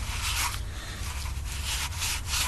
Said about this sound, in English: rotate the valve against the valve seat with the lapping compound on there